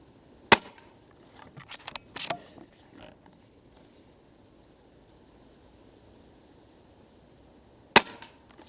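Pinty .22 bullpup air rifle fires at a target, two sharp loud cracks several seconds apart with faint handling clicks and rustle in between.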